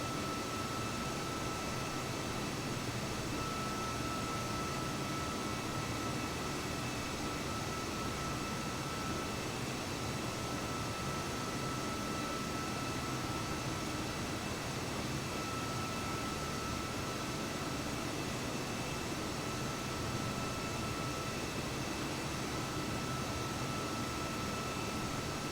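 An airliner on approach to Adelaide in Microsoft Flight Simulator gives a steady, unbroken jet engine drone with broad airy rush and a faint constant whine. Level and uniform throughout, with no voices.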